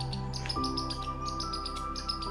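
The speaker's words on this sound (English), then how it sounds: "This bird's going crazy right now." A bird calls and chirps continuously in an outdoor setting during a quiet meditation session, with a steady insect-like trill and higher repeated chirps above a constant background hum.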